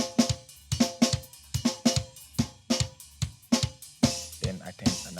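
Mixed drums play through a drum bus in a DAW: a steady groove of punchy kicks, snare hits and cymbals, dense and even, with no other instruments or voices.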